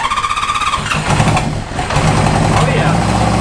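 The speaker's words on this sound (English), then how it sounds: "Now we're all ready to start up the bike and see just how synced these carbs are." A 1973 Honda CB500 motorcycle cranks and fires up, its engine catching after a brief starter whir and settling into a steady, close running rumble, with a voice talking over part of it.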